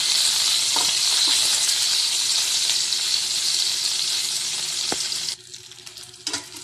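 Longganisa sausage frying in a pan gives a steady, loud broadband sizzle with scattered pops, then drops abruptly to a quieter hiss near the end.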